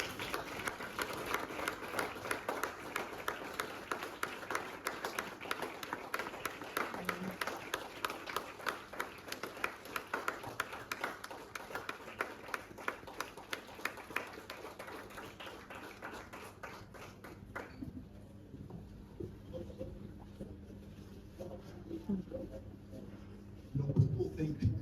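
Audience at a Ghana summit networking event claps in a sustained round of applause, steady and moderately distant, thinning out after about eighteen seconds with scattered claps remaining.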